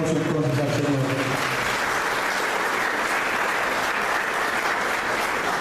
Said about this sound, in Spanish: Vamos a dar un aplauso entonces al Señor.